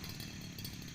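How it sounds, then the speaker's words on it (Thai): A brush cutter trims grass in a durian orchard, giving a continuous buzzing engine whine from some distance with no voices. "เสียงเขาตัดหญ้าเลย"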